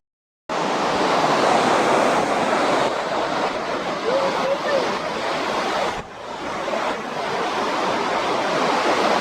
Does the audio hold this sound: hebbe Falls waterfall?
yes